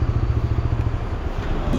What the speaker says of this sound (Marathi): घेतली बाईक आणि निघालो